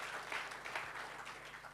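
A church congregation claps together, a soft, steady patter of many hands heard faintly and at some distance for a couple of seconds.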